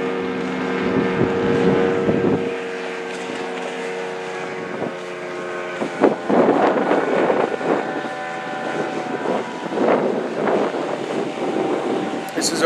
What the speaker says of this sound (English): This is our Grady White 2000 248 Voyager with the Yamaha 250 OX66.